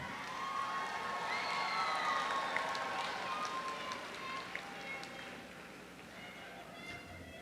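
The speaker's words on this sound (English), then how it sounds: "I'd like you guys to give a round of applause for everybody who's helped get you here today." Commencement crowd at a university undergraduate ceremony, applauding and cheering from a distance with scattered whoops and shouts, a broad crowd roar that gradually fades and thins toward the end.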